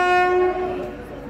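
An Indian express train sounds a short, loud horn blast that fades after half a second into a low rolling rumble of the moving train.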